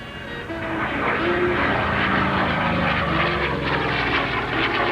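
Propeller airplane passing at the 1993 Chatham Ontario Kinsmen Airshow, a loud sustained engine drone with a steady prop hum that fades in quickly and holds strong throughout, with no voices.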